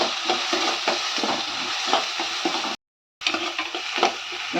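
Small shallots frying in oil as the base for a restaurant-style mutton gravy make a dense, crackling sizzle broken by stirring scrapes, with a short total silence midway; no one speaks.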